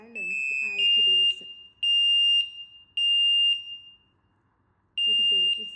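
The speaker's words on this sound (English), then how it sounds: "Smoke alarm in entrance hall." An ANKA smoke alarm in an entrance hall, linked to an S8 WiFi gateway, sounds loud, piercing high beeps in repeated long bursts with short gaps, while a person talks at the start and end.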